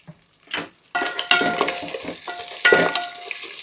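Cashews dropped into hot ghee and oil for biryani break into a crackling sizzle after a brief quiet start, with spoon scrapes and clinks against the pan, close and clear without talk.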